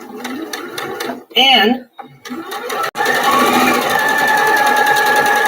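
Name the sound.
sewing machine stitching a Brigid's Cross table mat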